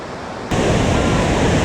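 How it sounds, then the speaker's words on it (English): Great Falls on the Potomac River roars as a broad, steady rush of water, jumping abruptly louder partway through and then holding as a continuous close wash of noise. "to an even more dramatic waterfall on the river here"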